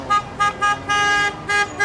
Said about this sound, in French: il y a aussi des autos qui klaxonnent